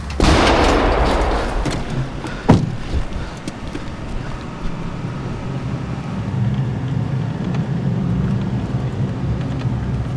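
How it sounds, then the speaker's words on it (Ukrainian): A single heavy boom from an artillery gun cracks out over steady wind rumble, then fades into outdoor background noise. "Гармата!"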